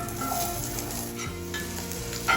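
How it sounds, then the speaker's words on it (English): Onions sizzle steadily in a pan as the base for an omelette, a loud continuous close frying hiss with faint stirring scrapes and no voices. "I'm going to add the onions first because they're going to take longer to cook."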